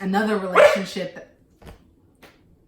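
A dog barks a couple of short, sharp times in the background just after a woman's speech, with sparse faint barks trailing off.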